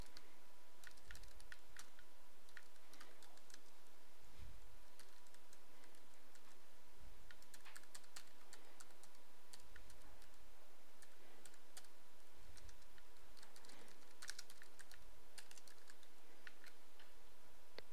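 Data being typed on a computer keyboard, a steady stream of quick close key clicks with irregular bursts and brief pauses over faint room hum.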